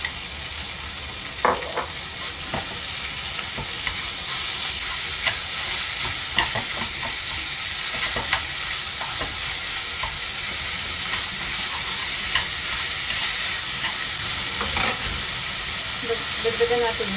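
Marinated pork sizzles steadily in a pan with garlic and canola oil, a dense constant frying hiss broken by occasional scraping stir clicks and brief clatters.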